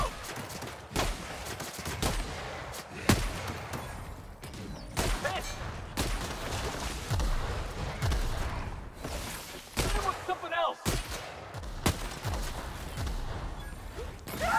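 Shotgun blasts in the video game The Outer Worlds: a series of loud, close shots at uneven intervals, with mechanical clacks and clatter between them.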